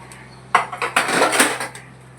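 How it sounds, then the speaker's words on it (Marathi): Pots, plates and cutlery clatter and scrape together in a home kitchen sink while dirty dishes are washed after cooking chicken 65, a dense burst of clinks lasting about a second and a half. "आता भांडी घासून घेणार आहे"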